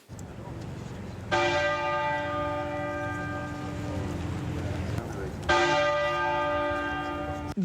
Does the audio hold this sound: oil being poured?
no